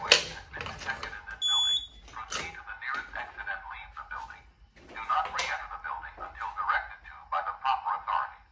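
Home fire alarm panel running a voice evacuation test, with recorded spoken announcements and alert tones sounding in bursts, moderately loud in a room.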